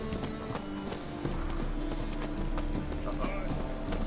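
Horse hooves gallop in The Witcher 3 in a steady, continuous clip-clop rhythm under a game soundscape, with a voice speaking over the hoofbeats.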